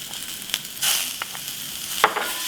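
Sichuan broad bean chili paste frying in a wok with ginger and garlic for twice-cooked pork belly, a short burst of close sizzling with a few quick stirring scrapes.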